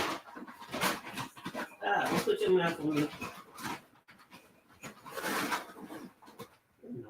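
Dogs whimper and pant close by, with soft whines and breathy huffs mixed in under near-constant talking from a person in the room.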